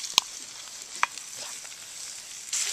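Vegetables and sausage sizzling in a frying pan with rendering pork belly for a breakfast hash, a soft steady sizzle broken by two sharp clinks of a utensil and a louder hiss at the end.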